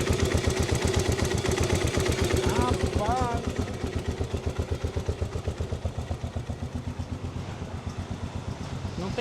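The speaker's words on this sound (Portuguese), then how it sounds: "E motorzinho velho de guerra." An old 1988 Yamaha Ténéré 600 motorcycle engine runs close by with a steady, throbbing single-cylinder pulse that eases slightly partway through, while a voice talks over it.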